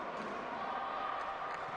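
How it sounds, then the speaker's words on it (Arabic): Crowd noise building at a women's handball match in the African Cup Winners' Cup, a dense, steady roar of spectators with occasional sharp bangs and thuds over it. "ابتدى صوت الجمهور بيعلى اهو"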